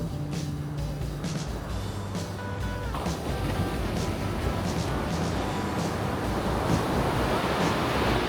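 Ocean surf breaks on a beach beside an RV park, a steady loud wash of waves mixed with wind noise on the microphone and a faint engine hum early on, with no talking.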